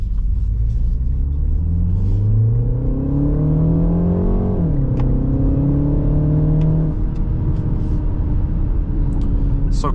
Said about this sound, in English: acceleration here is not a problem whatsoever.